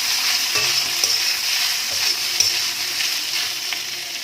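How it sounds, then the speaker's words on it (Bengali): Boiled, salted soya chunks frying in oil until browned, a steady close hiss of sizzling with light stirring clicks throughout and no talking. "এবার এটাকে একটু ফ্রাই করে নেব, একদম লাল করে"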